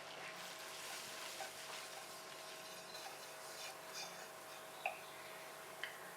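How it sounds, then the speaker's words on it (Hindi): Flour roasting in butter and oil in a pan, a faint, soft sizzle with light stirring scrapes and two sharp little ticks near the end, no voices. "अब इसमें डालेंगे 4 टेबल स्पून मैदा और इसको 1 से 2 मिनट भूनेंगे।"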